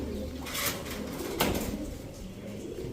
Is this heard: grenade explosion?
no